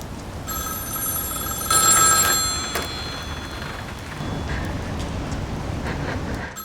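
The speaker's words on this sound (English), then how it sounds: "Joanna hears a phone ringing sound coming from a public telephone outside the apartment." A public telephone bell rings with a bright, metallic trill, loud for a moment before fading, over a steady background hiss outdoors.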